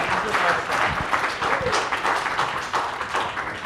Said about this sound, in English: Everybody clap your hands for her.